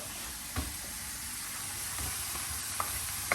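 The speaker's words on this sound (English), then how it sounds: "I'm going to add a chopped up chorizo sausage just to give it a bit more flavour." Chopped chorizo sausage sizzles steadily in a pan with a constant close hiss, broken by a few soft knocks and scrapes of a spatula.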